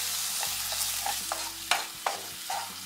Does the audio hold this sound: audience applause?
no